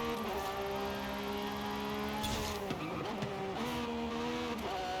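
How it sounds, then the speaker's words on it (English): A high-revving Lamborghini Revuelto supercar engine in the racing game Forza Horizon 5, with a raspy exhaust, drones steadily, its pitch dipping and climbing as gears shift. "I think exhaust sound is good on it"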